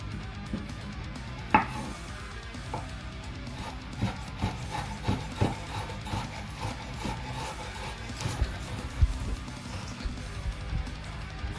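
Knife chopping jalapeno and red pepper finely on a board, a run of soft, irregular taps and scrapes at close range, with one sharper knock early on and no talking.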